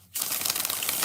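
A Witch's Tarot deck is shuffled in one brief, dense burst of riffling card flutter, close and crisp, lasting about a second.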